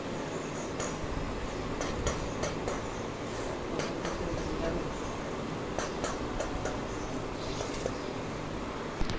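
A train rolls away from a station with a steady, loud rumble and rattling carriage noise. Intermittent clicks and clacks recur throughout.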